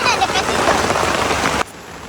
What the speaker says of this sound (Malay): Hujan turun perlahan di tengah campsite